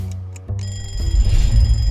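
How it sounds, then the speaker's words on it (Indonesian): A phone alarm goes off in the morning with a loud, steady electronic ringing tone that swells after a brief start, with no talking over it. "Setiap pagi mungkin kita bangun karena dengar suara alarm di HP kita."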